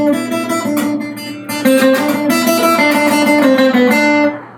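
A fingerpicked acoustic guitar repeats a simple melody plucked with one finger, evenly plucked notes over ringing bass strings, close and clear, fading at the end.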